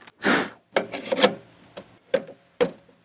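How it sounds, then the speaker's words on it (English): Wood pellets rattle and rasp in the hopper of a Ninja Woodfire outdoor grill, shaken in a few short bursts, close and fairly quiet. "I give it the shake to give it some air around the pellets."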